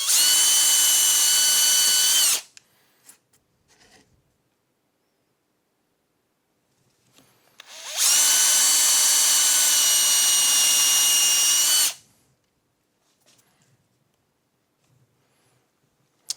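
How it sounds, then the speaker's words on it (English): A power drill bores holes in a wooden clock in two loud, sustained whining bursts of a few seconds each, with near silence and small knocks between. "And then we're going to drill our holes"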